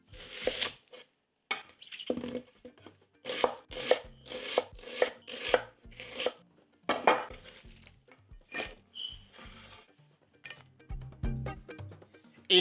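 An extra large red onion is chopped with a knife on a board, giving bursts of quick, sharp, close chops in rhythmic runs separated by pauses and occasional clinks of utensils.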